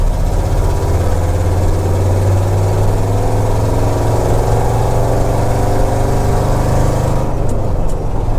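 A restored U.S. Forest Service Ford F250 Highboy truck's engine runs steadily while driving, a loud, constant low rumble heard from inside the cab with no talking.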